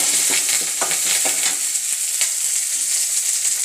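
Mustard seeds, chopped ginger and shallots frying in oil for a Kerala moru curry, a loud continuous close sizzle with faint irregular crackles throughout, no voices.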